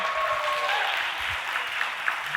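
A festival awards crowd gives a round of applause for the awards judges, a moderate, fairly distant patter of clapping that stays steady, with a few brief tonal chirps over it.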